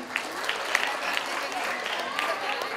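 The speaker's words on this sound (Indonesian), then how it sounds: "Oke, tepuk tangan." Applause from a workshop audience at a sanitation jamboree, moderate and steady, with voices talking over it throughout.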